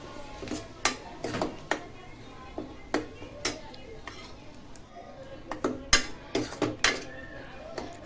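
Tomato masala with turmeric sautéed in a pan, with a spoon clinking and scraping against the metal in irregular bursts over a faint background sizzle, close by.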